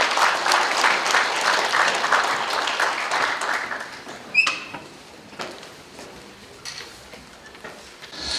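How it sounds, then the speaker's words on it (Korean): Press gathering at a mayor's New Year news conference breaks into loud, dense applause for about four seconds, which cuts off sharply and leaves a few clicks, shuffles and room sounds. "여러분 큰 박수 부탁드립니다"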